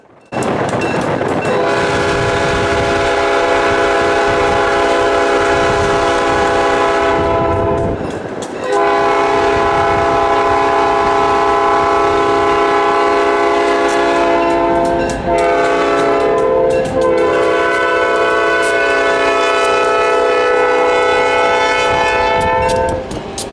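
A slow-moving heritage train on the Hoosier Valley Railroad line, travelling about 15 mph beside a road, sounds a loud, sustained horn in long blasts, with rumbling wheels underneath.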